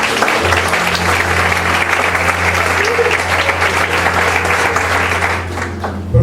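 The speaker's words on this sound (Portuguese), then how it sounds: "Quem crê nisso, aplauda Jesus." A church congregation applauds together, loud and continuous clapping over a low steady hum, tapering slightly just before the end.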